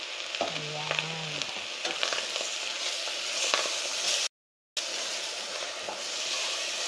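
Garlic and tomato paste being stirred in a frying pan for spaghetti bolognese: steady close sizzling with scraping spoon strokes, one brief clink near the start and a short gap of silence partway through.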